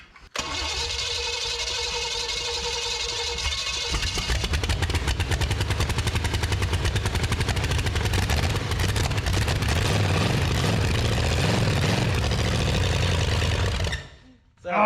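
A box truck engine with a swapped carburetor cranks, catches and runs loudly, unable to slow to idle, then keeps revving with a rough, rapid pulsing before cutting off abruptly near the end.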